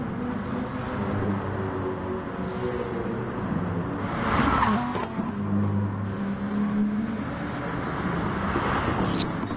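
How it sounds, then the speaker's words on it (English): Lamborghini engine in a racing video game, a steady droning roar with rising revs as the car drifts, continuous and fairly loud with no talking. "We'll just catch him drifting that Lamborghini."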